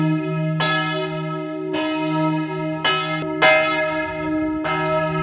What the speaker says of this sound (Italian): sentite la meraviglia del suono delle campane